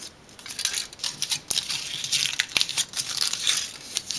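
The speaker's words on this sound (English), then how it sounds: "the first thing you want to do is carefully remove the foil" A foil lid is peeled off a plastic popsicle cup at close range, giving irregular crinkling and tearing rustles with a few sharp crackles, fairly loud and continuous for several seconds.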